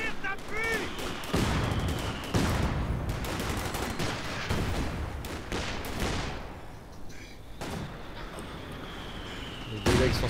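Thudding mortar and artillery blasts in a WWII strategy game set in the Ardennes, with scattered gunfire, repeated at irregular intervals, mid-distance, while a commentator talks over the action in French.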